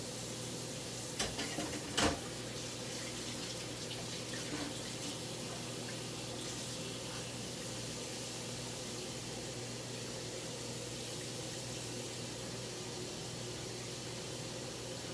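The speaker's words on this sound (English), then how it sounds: "there's some raw beef already thrown on this, so I got to wash this" Tap water runs steadily into a kitchen sink while a dish that held raw beef is rinsed, a constant close splashing rush with one or two small clunks near the start.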